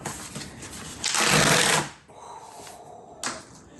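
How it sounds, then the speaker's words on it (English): A cardboard rip tab torn from a Mac Studio box: a loud, rough tearing burst lasting under a second, followed by quieter rustling of packaging and a brief scrape near the end. "I'm about to pull the rip tab"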